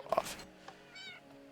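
A Minecraft cat gives a single short, bright meow, close and clear, followed by a softer trailing tone over quiet game background.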